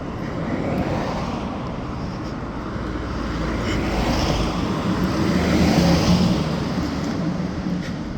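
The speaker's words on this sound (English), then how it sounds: "Just let these cars pass by here." A broad, steady roar of passing cars on a street in Japan, swelling slightly as traffic goes by nearby.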